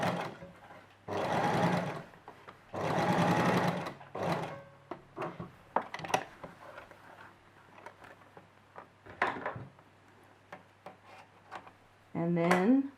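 A sewing machine runs long basting stitches on a simple dress in short bursts of steady mechanical whirring, close and loud, separated by pauses filled with light handling clicks and taps.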